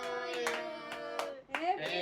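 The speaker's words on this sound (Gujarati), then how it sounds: "તાળીઓ પાડવાની છે" Scattered hand claps at a birthday celebration, mixed into a group singing happy birthday together, with bursts of clapping rising and falling close by.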